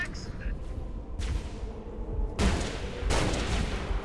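Pistol gunfire in the video game Halo: Reach, a few sharp shots cracking out over a busy game soundscape, with brief bursts around the middle and end and a voice talking faintly underneath.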